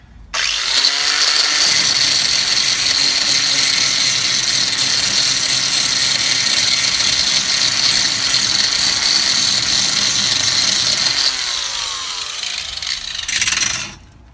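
A worn-out angle grinder strains as it grinds down metal on a vehicle bumper, a loud, steady harsh whine held for about ten seconds, then bogging down and revving briefly before it stops.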